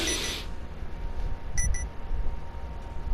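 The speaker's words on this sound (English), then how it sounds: "Strange beeping." A short burst of high electronic beeps, two quick tones around a noisy background hum, fairly faint and brief.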